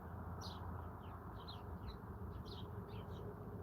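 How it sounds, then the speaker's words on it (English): Birds chirp outdoors in a scattered series of short, high tweets over a constant loud rush of background noise. "Birds are chatting it up around here."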